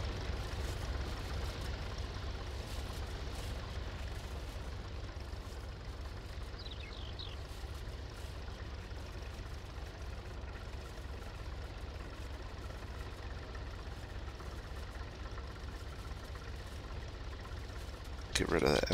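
A modded classic American tractor's engine idles and runs steadily in Farming Simulator 19, a continuous low rumbling drone that holds at an even loudness for the whole stretch, with a brief louder burst at the very end.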